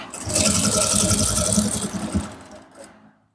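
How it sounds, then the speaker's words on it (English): A sewing machine stitches a seam on a male senator top in a fast, dense mechanical rattle for about two seconds, then slows and stops. "So stitch all along that line."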